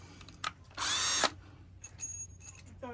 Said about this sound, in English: I'll go ahead and drill a larger hole and make sure that's going to accommodate the mounting bolt.